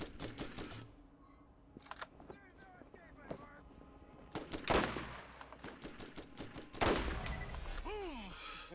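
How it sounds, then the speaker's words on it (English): Enemies fire guns in Borderlands in scattered bursts of sharp cracks, with a couple of louder blasts standing out among the shots, all fairly quiet overall and mixed with other game sounds. "Who's shooting at me?"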